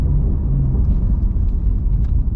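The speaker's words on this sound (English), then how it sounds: "That motor sounds amazing." A 2017 Ford Mustang GT350 engine gives a deep, loud, steady rumble close by, holding low and heavy throughout with no talking.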